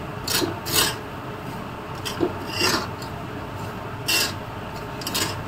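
A spoon or spatula repeatedly stirs and scrapes semolina roasting in a pan for shira, a dry gritty rasping that swells in several strokes at an even, close level.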